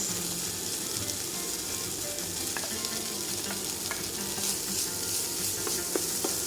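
Small-diced potatoes hitting hot oil in a pan with translucent onion and garlic, a steady loud sizzle with occasional stirring clicks and scrapes throughout, no talking.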